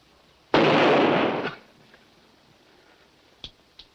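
A single loud, close gunshot or blast in a western film scene bursts out and rings for about a second, followed by two faint sharp cracks a couple of seconds later.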